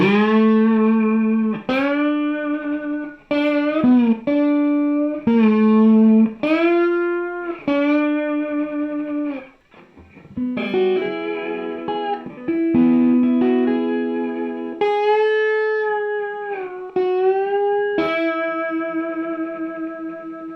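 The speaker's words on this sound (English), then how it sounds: "Let's see how it sounds with like a slide" An Epiphone SG400 electric guitar played with a slide through distortion and effects, gliding sustained notes and bent chords ringing loud and close with echo, no talking.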